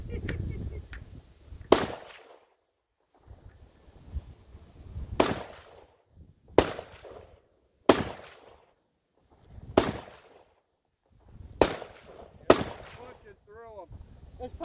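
Sharp, loud gunshots from target shooting at an outdoor campout ring out one at a time at irregular intervals, with echoing tails and people talking between them.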